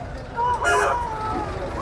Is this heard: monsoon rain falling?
no